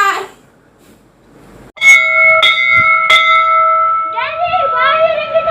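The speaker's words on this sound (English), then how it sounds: "why are you ringing the bell?" A bell rung by hand in a home, giving three loud metallic strikes with sustained ringing tones that carry on as a voice begins speaking near the end.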